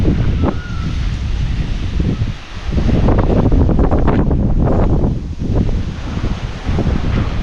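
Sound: strong wind blowing outside a homestay

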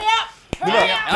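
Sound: little hand clap

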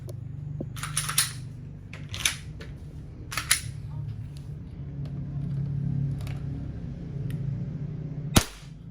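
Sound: airsoft Glock 17 Gen5 gas blowback pistol firing shots

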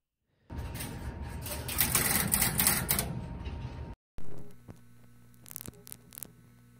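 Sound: No. 1 Crossbar terminating sender pulsing

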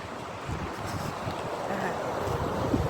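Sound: strong wind by lake Ebensee

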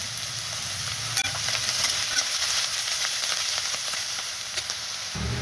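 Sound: onions sautéing in oil in a pan

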